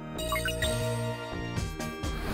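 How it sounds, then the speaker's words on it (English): Jingling bells in the Christmas edition of the video game NiGHTS Into Dreams, a short bright tinkling chime that rings out briefly and then gives way to other game sounds. "Jingle bells."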